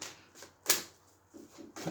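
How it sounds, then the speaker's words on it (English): A deck of tarot cards is shuffled by hand in a few soft, quick riffling bursts, close and quiet, with a sharper snap in the middle. "So I'll just shuffle for a little bit."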